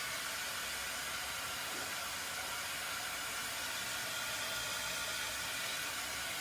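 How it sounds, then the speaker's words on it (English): Heat tool used to dry stencilled paint blows a steady, even rush of air with a hissing fan whine, constant and close throughout, with no talk. "I'm going to grab my heat tool again and I'm going to bring it in and get this all dried up."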